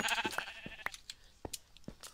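Sheep in the Minecraft video game bleat several times in short, separate calls, fairly close and clear, with brief gaps between them and no talking.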